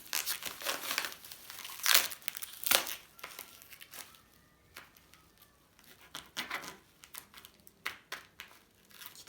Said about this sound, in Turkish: İlk defa bıçakla kargo açıyorum sanırım.